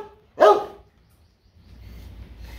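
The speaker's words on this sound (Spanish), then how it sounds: "Chinay tiene 14 años, es un perro viejo." A single loud, close bark from Chinay, a 14-year-old dog, followed by quiet with faint low rumbling background.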